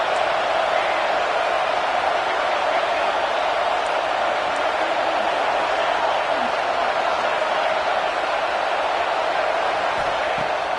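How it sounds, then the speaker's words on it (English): A college football crowd in a stadium roars steadily and loudly during a Miami timeout before third and goal, a dense, unbroken wall of noise with no break. "This crowd knows when to bring it."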